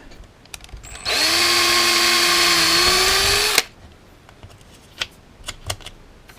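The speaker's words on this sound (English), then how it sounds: "So let's go ahead and drill that out." A power drill whines loudly and steadily for about two and a half seconds, drilling out a stripped screw hole, then stops, followed by a few faint clicks and taps.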